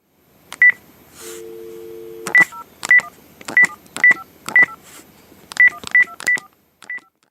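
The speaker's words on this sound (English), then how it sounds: "He's dialing a number." A telephone keypad sends a rapid series of distinct dual-tone beeps as a number is dialed, about a dozen short tones in irregular bursts, clear and close, with a brief steady tone partway through.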